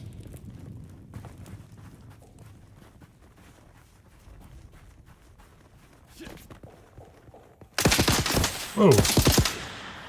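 Gunfire aimed at the player in the video game Dune Awakening breaks out suddenly after quieter footsteps. A loud, rapid burst of shots lasts about two seconds, and a voice exclaims over it.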